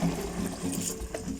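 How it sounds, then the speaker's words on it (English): Water pours and splashes continuously into a pot of githeri beans and maize at a village firewood cooking spot. The sound is a steady, close liquid rush with no talk. "let's add our water as we cook our githeri"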